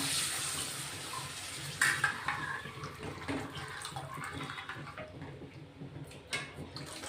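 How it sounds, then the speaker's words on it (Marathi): Curd-based buttermilk is poured into a cooking pot for a Gujarati-style kadhi, a steady liquid splash with a few soft clinks of utensils, fairly quiet and close, with no talking. "हे दह्याचं ताक केलेले आपण ते टाकून घेऊ आता"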